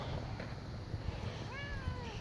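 A cat gives a single drawn-out meow near the end of the clip, rising then falling in pitch, over a rough, noisy background rumble.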